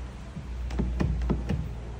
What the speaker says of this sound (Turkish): Çek kapı kolunu.